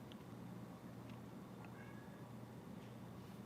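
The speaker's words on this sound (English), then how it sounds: "I have never heard a cat talk this much." A very talkative cat meowing faintly in a quiet room, a few short, soft meows scattered over low background hum with no talking.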